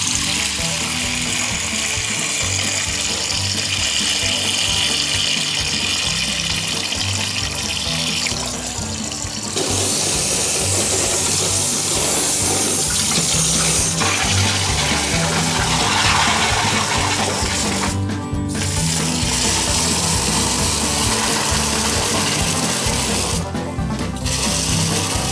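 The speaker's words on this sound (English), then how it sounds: "we're going to drain off this water." Water draining off a batch of homemade olive oil, a continuous rushing, splashing flow like a running tap that holds steady, with brief dips and shifts in the stream.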